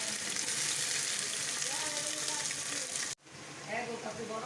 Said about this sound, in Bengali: একটু ভাজবো, তারপরে একটু পেঁয়াজ দিয়ে দিলাম